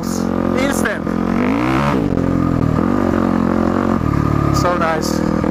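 A Yamaha WR450F dirt bike engine revving in second gear, loud and close, with steady throttle rises and falls and a rider talking over it.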